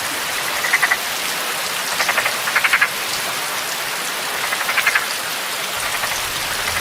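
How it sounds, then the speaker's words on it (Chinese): Frogs croak during steady rainfall, with several short, rattling bursts of calls spaced irregularly over a constant hiss of rain. "还真是青蛙叫"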